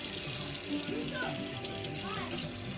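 Liquid from cleaned wild chicken mushrooms is poured into a pot, a steady splashing, running-water sound that holds throughout at a close, moderate level with faint gurgles.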